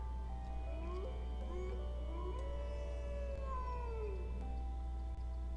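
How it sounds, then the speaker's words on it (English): A creature in the video game Spore lets out a long, wavering, rising-and-falling howl with several bent tonal swoops, heard clearly over a steady low game hum with no talking. "What if it tries to howl?"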